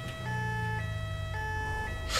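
Ambulance siren wailing in GTA 5, a steady electronic two-tone pattern that alternates pitch roughly every half second, loud and close over a low engine rumble, with no talk.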